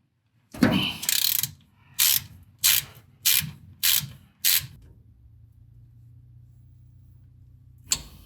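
A ratchet wrench loosens a 1/2 inch bolt holding a clip on the brakes of a 1985 Ford F-150, giving six or so sharp, close clicking strokes in a steady rhythm, then a low hum and a final click.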